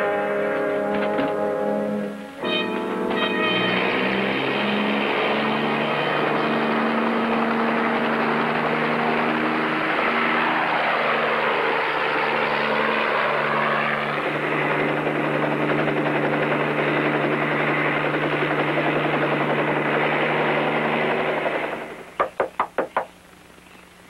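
A helicopter drones steadily and loudly for about twenty seconds, its engine and rotor noise constant with a slight shift in pitch midway, then cuts off abruptly and is followed by a few sharp knocks.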